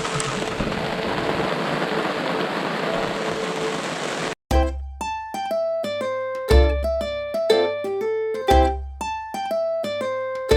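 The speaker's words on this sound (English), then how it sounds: "We're currently experiencing beautiful sunshine while it pours rain." Heavy rain pours at a backcountry campsite in Charleston Lake Provincial Park as a dense, steady hiss for about four seconds, then cuts off abruptly and music with rhythmic notes takes over.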